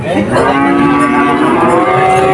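A cow lets out a long, loud, close moo that holds steady for a couple of seconds, at the Chuknagar cattle market in Khulna, Bangladesh.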